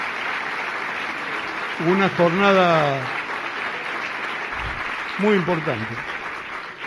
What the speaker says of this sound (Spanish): Yo quiero pedir para ellos un aplauso